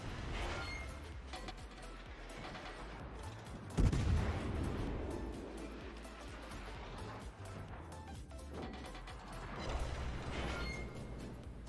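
Salvos from the Tier IX American cruiser USS Buffalo in World of Warships: one heavy boom near four seconds, then rumbling battle noise with softer thuds and mechanical clatter, and some faint talk underneath.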